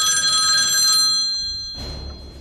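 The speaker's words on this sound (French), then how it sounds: "Mais c'est le téléphone de Raphaël qui sonne" Raphaël's mobile phone rings with a bright, tonal electronic ringtone that sounds close and loud, then cuts off into a muffled rumble of handling noise.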